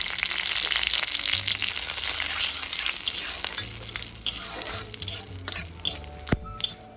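Cumin seeds and a dried red chilli hitting hot oil in a wok, a loud, close crackling sizzle that gradually settles, with occasional stirring clinks from a spoon against the pan.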